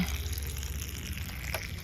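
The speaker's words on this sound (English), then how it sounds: "take a 5-gallon bucket of water, pop in a hole 1/8 inch with a drill bit" Water drains from a small 1/8-inch hole drilled in a 5-gallon bucket. It makes a steady, faint gushing trickle close by in an outdoor garden.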